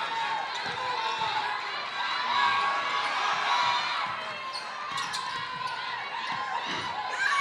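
Crowd noise at a girls' varsity high school basketball game against Newton North, a steady murmur of cheering and shouting over squeaks and ball bounces on the court, with talk heard throughout.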